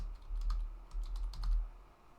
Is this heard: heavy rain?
no